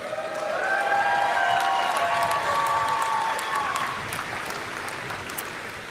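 A crowd claps and cheers through a live broadcast for the communities praised, fairly steady applause at moderate distance holding for several seconds, with voices murmuring within it.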